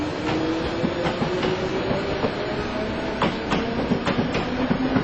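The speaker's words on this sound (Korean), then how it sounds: "이어 열차는 천천히 미끄러져 가기 시작했다" A slow train pulling away in a snowy country station, a radio-drama effect: a steady rumble of wheels with soft rhythmic clacks and faint metallic ticks, even and close throughout with no voices.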